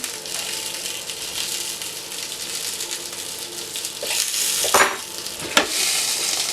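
Burgers frying in spattering oil give a loud, continuous close-up sizzle, broken near the end by a couple of sharper scraping knocks from a utensil in the pan.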